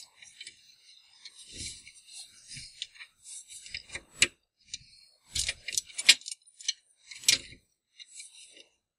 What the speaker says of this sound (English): I'm just gonna slide it right up until it clicks.